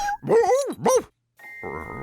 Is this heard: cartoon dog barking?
yes